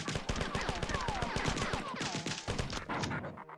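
Shooting at enemies in the video game Marathon, with rapid automatic gunfire bursts in a fast, steady rhythm over game noise that cut off near the end.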